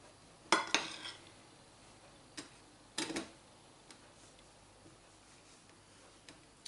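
A knife cutting slices into a Roquefort and walnut loaf: a few sharp, crisp crunching strokes spaced apart, faint and close in an otherwise quiet kitchen.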